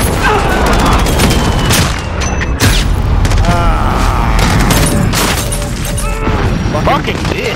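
A bomb goes off in a Call of Duty: Modern Warfare match, a loud booming blast amid dense crackling gunfire and crashing debris that keeps the whole stretch busy and heavy.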